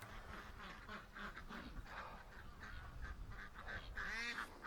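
A mixed flock of farm ducks and geese gives dense, overlapping quacks and honks from nearby, with a louder honk near the end over a constant outdoor background.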